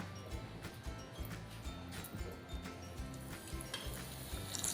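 Modak dumplings made from wheat flour and semolina fry in hot oil over low heat, a faint, steady close sizzle with soft bubbling and occasional light clatter, no talk.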